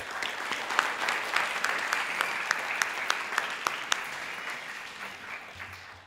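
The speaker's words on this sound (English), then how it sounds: "Let's give Alvin another round of applause." Audience applause at a high school graduation, a sustained patter of many hands with a few sharp individual claps standing out, tapering off toward the end.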